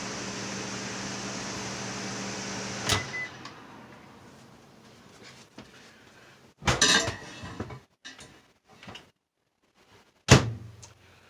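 Meatloaf pan going into a convection oven: a steady appliance hum cuts off with a clunk, followed by metallic clatter, a solid thud of the door, and a final sharp bang, close and without voices.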